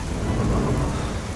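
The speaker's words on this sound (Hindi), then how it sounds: "बारिश बहुत तेज हो गई है" Heavy rain pours steadily with deep rumbling thunder rolling underneath, loud and continuous throughout, during a village downpour, with no voices.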